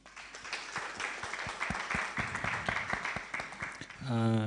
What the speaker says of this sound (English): Let's give these guys a hand clap